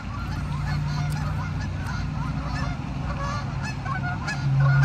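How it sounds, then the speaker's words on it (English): Geese flying overhead at daybreak, honking repeatedly in a loose, overlapping chorus, moderately close and steady for several seconds with no talk. "we got geese flying over"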